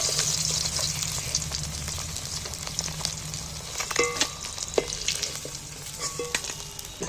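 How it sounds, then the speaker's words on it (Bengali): Fried fish being lifted out of hot oil, a continuous close sizzle with clinks and scrapes of a utensil against the pan, no talking. "দেখো এই মাছগুলো আমার ভাজা হয়ে গেছে এগুলো তুলে নিচ্ছি"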